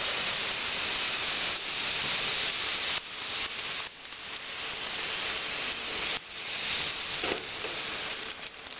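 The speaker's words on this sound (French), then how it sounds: "La poêle est bien chaude et je verse doucement la pâte." Thin cajasse batter, runnier than crêpe batter, poured into a very hot pan sizzles loudly with a constant steamy hiss and crackle, with brief dips and surges as it settles; no voices.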